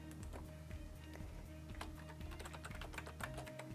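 Typing on a computer keyboard, a rapid, continuous run of faint close key clicks and taps with uneven rhythm over a low steady hum, with no talking.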